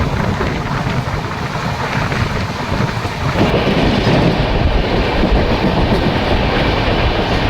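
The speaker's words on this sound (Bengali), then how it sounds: "আলুয়াবাড়ি রোড জাংশন স্কিপ করার পর ট্রেন জোর চলছে।" Kamakhya–LTT Karmabhoomi Express running fast past Aluabari Road Junction, heard from aboard: a loud, dense rushing roar of wheels and wind with faint rhythmic rail clatter, continuous and growing heavier partway through.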